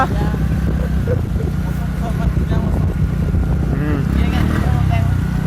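A scooter engine hums steadily while riding in rainy weather, mixed with rushing wind and road noise. A voice talks over the continuous, moderately loud drone.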